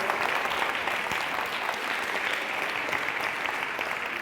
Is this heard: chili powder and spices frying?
no